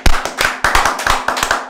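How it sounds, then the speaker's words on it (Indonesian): Applause sound effect of dense clapping hands, bursting in several loud, uneven waves over a short stretch with no voices. "Kasih efek tepuk tangan."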